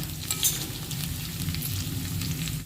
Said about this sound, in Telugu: ఇవి బాగా ఫ్రై అయిపోయండి